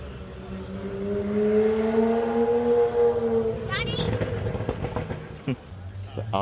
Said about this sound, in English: It's an Audi R8. Did you hear the pop?